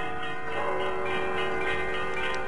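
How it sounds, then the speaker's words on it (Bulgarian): The bells of the Alexander Nevsky Cathedral memorial church ring together in a dense, sustained peal with overlapping tones that hold steady throughout, with no voices. "камбаните на храм-паметника зазвъняват за първи път"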